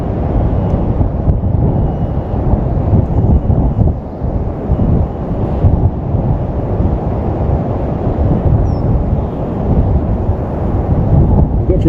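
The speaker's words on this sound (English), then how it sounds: "I can feel the wind." Wind buffets a drone operator's microphone beside the River Calder in a loud, continuous roaring rush that fills the whole stretch with no pauses and no speech.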